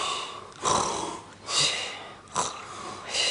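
A storyteller's voice imitates a big fisherman's snoring: three drawn-out, raspy snores rise and fall in a steady rhythm, close and fairly loud, with no other sound around them.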